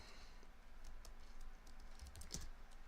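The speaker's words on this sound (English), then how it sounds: "Hopefully this saves what I'm typing here when it finishes." Someone types on a computer keyboard during a coding session, soft irregular key taps in quick runs and clusters, fairly quiet and close, with no voices.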